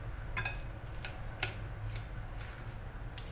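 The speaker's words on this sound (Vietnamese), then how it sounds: "trộn đều cho thấm gia vị" Spring roll filling is tossed and mixed with seasoning, giving quiet, close scrapes and a few soft clinks from a utensil against the bowl over a low background hum.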